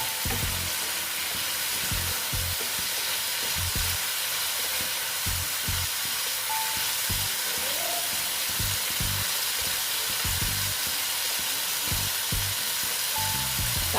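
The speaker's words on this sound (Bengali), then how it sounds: "তারপরে দিচ্ছি হলুদ দিয়ে এটা ভালো মতন কষিয়ে নিচ্ছি" Chopped banana flower sautés with turmeric in a pan for a Bengali vegetarian mocha ghonto, giving a steady, even sizzle and hiss close by with faint stirring and no voices.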